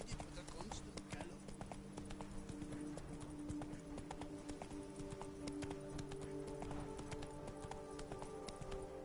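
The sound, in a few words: horse galloping hooves in Witcher 3 video game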